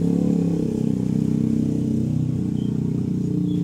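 A Honda Blade FI motorcycle engine, its TPS sensor newly replaced, runs and revs steadily up close, with a dense, continuous mid-range drone and no pauses.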